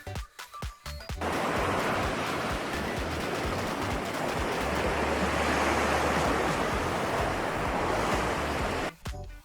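Ocean waves at a beach roll in as a broad, continuous rushing wash of surf, loud and steady for most of the time, framed by brief scattered clicks and handling noise at the start and end.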